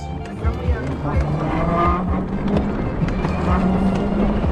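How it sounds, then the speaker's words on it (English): A turbocharged go-kart engine drones loudly and continuously from the driver's seat on the road, its pitch rising and falling as it revs. "Listen to that turbo"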